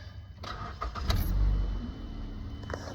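An engine with fouled spark plugs and a bad alternator cranks briefly and then catches, settling into a rumbling idle after a few clicks.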